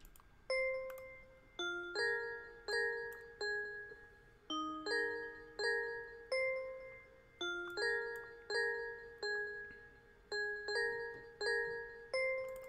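A bell counter melody in a beat plays struck tones in a repeating rhythmic pattern with delay echoes trailing each note, clean and alone.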